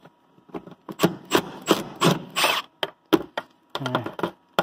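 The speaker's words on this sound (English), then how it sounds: "hammer that thing out of there, hopefully." A welded-on stripped bolt being hammered out, a series of sharp metallic strikes at close range in an irregular rhythm with brief pauses.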